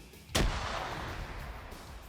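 A frag grenade blows up in a video game PvP match, a single sharp blast followed by a rumbling, decaying tail that lingers for about two seconds at moderate distance.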